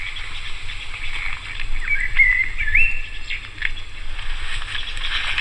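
Birds chirp in a forest with a few clear, thin calls rising over a quiet, low background hum, moderately near and without talk.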